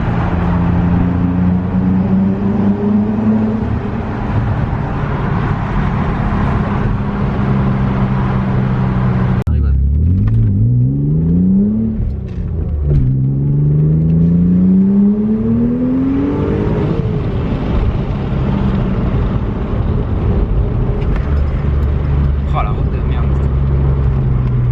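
An Audi RS3 engine pulls hard and steady throughout, its tone climbing and sweeping through gear changes as the car accelerates, with people talking inside the cabin over the running engine.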